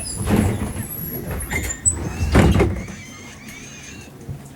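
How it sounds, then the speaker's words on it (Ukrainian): The doors of a BKM-333 trolleybus in Minsk close in two loud pneumatic bursts a couple of seconds apart, followed by quieter interior hum. "Осторожно, двери зачиняются."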